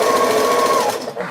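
A sewing machine stitches star quilt blocks with a fast, steady whirring hum. Near the end it slows and stops, and a few soft handling sounds follow.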